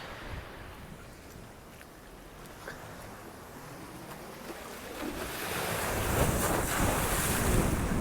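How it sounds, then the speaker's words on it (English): Ocean waves breaking on a small beach in Waikiki near Kaimana Beach, a continuous wash of surf with wind noise that builds into a louder, fuller crash toward the end, with no voices. "The waves crashing"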